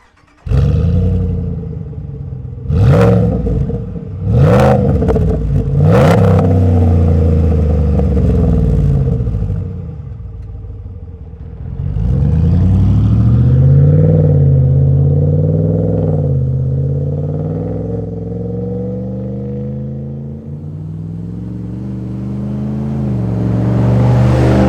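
A 2019 Ram 1500 HEMI with an MBRP 3-inch muffler bypass fires up and blips its throttle in several sharp, loud revs, then settles into a deep burbling idle with longer, swelling revs.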